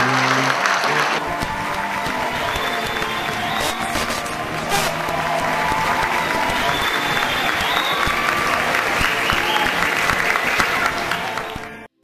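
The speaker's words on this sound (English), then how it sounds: "Give Dave a huge round of" Loud, sustained applause from a large crowd at a comedy magic show fills the space, with scattered cheers, holding steady for several seconds before cutting off abruptly.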